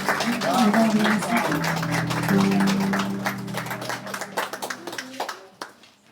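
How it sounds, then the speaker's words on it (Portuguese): Congregation at a church service clapping together, a dense, steady round of applause mixed with voices, singing and organ-like tones, fading toward the end. "Uma salva de palmas para o Senhor Jesus"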